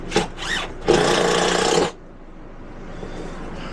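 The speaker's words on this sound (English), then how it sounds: "Now I'm gonna put these screws in the other side." A power drill drives screws into an RV divider panel, with two short whirs followed by a sustained one-second run, then it stops and leaves a quiet room tone.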